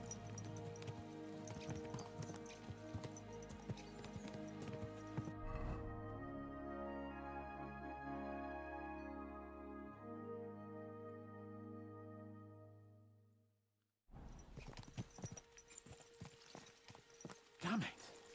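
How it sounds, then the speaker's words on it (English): Horses gallop in the video game Kingdom Come: Deliverance 2, hooves clip-clopping in a quick rhythm under a droning musical score. The hooves fade into sustained tones before a burst of hoofbeats returns near the end. "Let's really spur these horses on, eh?"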